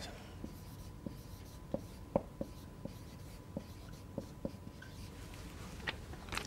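Marker strokes on a board during a matrix lecture, a series of short faint taps and squeaks spaced irregularly over a quiet background.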